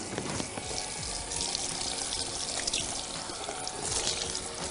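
A tap runs steadily into a salon basin during a hair colour rinse, a constant close hiss and splash with no break and no talk.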